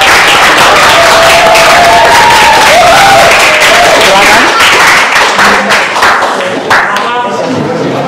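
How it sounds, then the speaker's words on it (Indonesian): Classroom applause for the first student group about to present, a loud sustained clapping from the class that carries throughout, with voices murmuring over it and thinning toward the end. "Kita kasih tepuk tangan yang luar biasa untuk kelompok 1."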